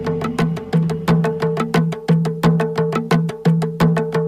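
Replica drums modelled on 4,000-year-old European finds, played together in a steady, loud rhythm of sharp strikes over a resonant low boom, with no voices.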